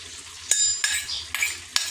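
Chicken browns in a very hot wok-style pan, giving a quiet sizzle broken by several sharp metallic scrapes and stirs of a utensil, close by, with no talking.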